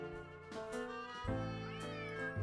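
Yuri the cat yowls in the Nancy Drew game Secret of the Old Clock: two or three long, rising and falling meows, close up and unaccompanied by any voices.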